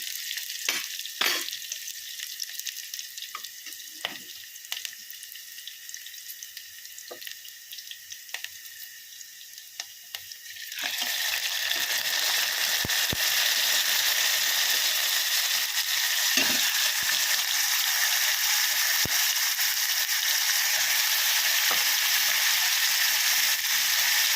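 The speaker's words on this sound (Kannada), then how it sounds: "ಈ ಮಟನ್ ಸ್ವಲ್ಪ ಎಣ್ಣೆಲಿ ಫ್ರೈ ಆಗೋವರೆಗೂ" A quieter sizzle with occasional stirring clacks gives way to a loud, steady roar of half a kilo of mutton frying in oil that continues unbroken to the end.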